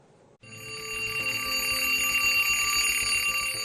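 A loud electronic buzzer on a Hindi TV debate show cuts in after a short pause and holds a steady, harsh, ringing alarm-like tone to the end, with no talk over it.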